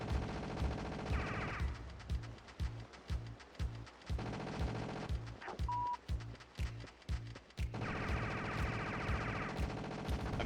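Loud, rapid gunfire pours out of a video game weapon with unlimited ammunition, the trigger held down in long sustained bursts broken by short pauses, with a steady tonal whine running beneath the shots.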